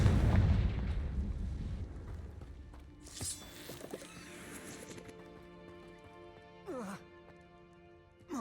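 A Confringo spell in Hogwarts Legacy sets off a burst at the start, a rumbling blast that fades out, followed by sparse magical whooshes and rising zips over a quiet backdrop, with a voice speaking.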